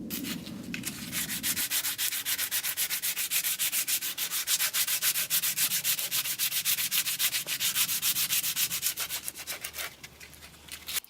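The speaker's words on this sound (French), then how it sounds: "je vais mettre un petit coup de papier à poncer" Sandpaper worked by hand along a wooden hatchet handle, producing close, rhythmic rasping strokes in a fast even back-and-forth pattern that runs for several seconds before stopping.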